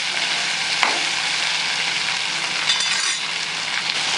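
Okra (ladies finger) fries in a pan with a loud, continuous hiss and crackle, broken by a brief utensil clink early on. No one speaks.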